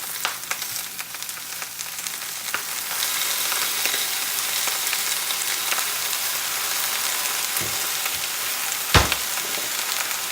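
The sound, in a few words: soy sauce sizzling in hot oil with pepper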